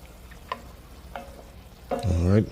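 Ground beef for goulash browns in a pot with a faint sizzle, a couple of light stirring clicks and then a louder scraping stir near the end.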